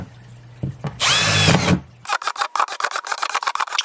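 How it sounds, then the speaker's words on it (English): A power drill bores holes in a plastic worm bin, starting with a loud sustained whine and then breaking into a rapid series of short, close drilling bursts. "Alright, let's start drilling some holes."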